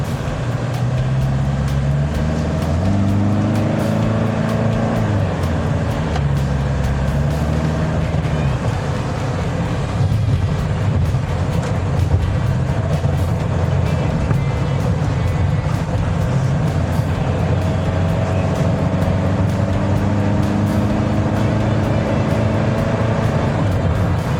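The 3.0-litre, 136-horsepower diesel engine of a 2017 Toyota Ventury drones steadily throughout, its pitch rising and shifting as it accelerates, heard from inside the vehicle with constant road noise.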